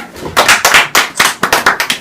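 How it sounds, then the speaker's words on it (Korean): Audience applause welcoming Professor Kim In-gi onto the stage at a logical-thinking seminar: a short, uneven run of hand claps in distinct bursts, as from a modest group, with no talking over it. "박수 부탁드릴게요."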